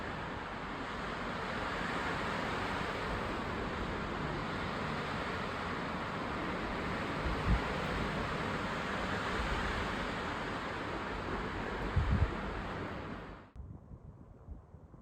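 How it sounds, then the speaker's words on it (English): Strong wind roars steadily and loudly across an open outdoor spot in New Mexico, buffeting the microphone with constant broadband rush and a couple of brief gusts, then cutting off abruptly near the end. "the wind is really whipping out there"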